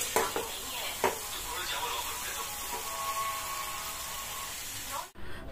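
Vermicelli (semai) frying and being stirred in a pan for semai payesh, a steady close sizzle with a few sharp spatula knocks against the pan before it cuts off near the end.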